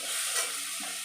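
Tomatoes cooking with salt in a frying pan, being stirred, give a continuous close sizzle with a soft scrape of a spatula, heard alone for about a second.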